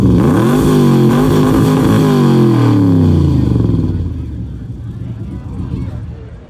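A 1966 Chevrolet Corvette at a car show revs its engine in loud, wavering surges that then settle away. Crowd noise continues underneath.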